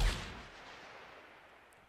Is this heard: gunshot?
yes